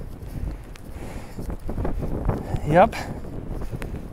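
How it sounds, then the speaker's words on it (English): Strong wind from a winter storm on the Virginia Beach coast gusts and buffets the microphone in cold conditions, a steady rushing roar with a stronger swell near the end, while a person says a brief word. "now the wind's starting to get a little bit stronger"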